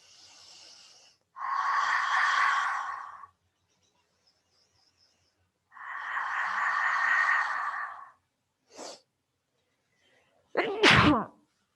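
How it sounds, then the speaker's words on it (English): Two loud sneezes, each with a wheezy, breathy build-up, then a short sniff and a sharp final burst, all close by with no talking. "I always sneeze when I do these points because it activates my sinuses."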